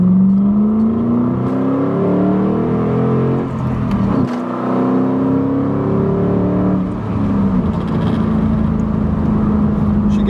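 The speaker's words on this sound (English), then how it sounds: "So just to show you guys a little acceleration here" A 2005 Ford Mustang GT with a V8 revs hard and accelerates through the gears, its engine note climbing steadily, dipping briefly at each shift, then rising again, loud and close throughout with no talking.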